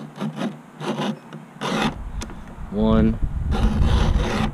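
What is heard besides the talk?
sharpening chainsaw chain with Stihl 2-in-1 file sharpener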